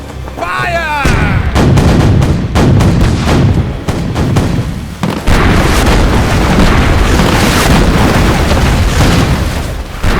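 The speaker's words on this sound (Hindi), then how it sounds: "तोपें चलाओ और फायर करते रहो" Ship cannons in a cartoon sea battle fire in rapid, heavy booms that roll together into continuous loud bombardment, with a brief whistling sound near the start and a moment of speech.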